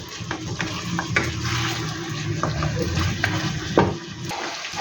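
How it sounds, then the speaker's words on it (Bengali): Black pepper chicken frying in a pan while being stirred: a loud, continuous sizzling hiss with repeated scraping stir strokes throughout, no talking. "মিক্সড করে নিয়ে এগুলোকে ফ্রাই করতে থাকবো কিছুক্ষণ"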